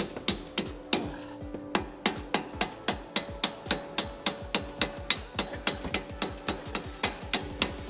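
Sharp metallic hammer blows ring out in a steady, even rhythm, roughly three strikes a second, loud and close, driving bolts out of a strut on a 2015-2022 Ford Mustang.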